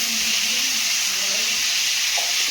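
Phoron spices sizzle steadily in hot oil, a loud continuous bright hiss filling the clip with faint clinks underneath, just before shrimp go into the pan.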